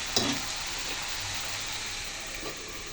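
Leafy greens cooking down in a pan in their own released water, a low steady simmering sizzle with a brief clatter at the start and a faint scrape later.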